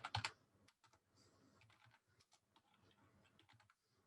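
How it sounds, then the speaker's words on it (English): Typing on a computer keyboard while entering a board game name in a design tool, with quiet close clicks in quick irregular bursts after a louder opening clatter. "so let's type that in."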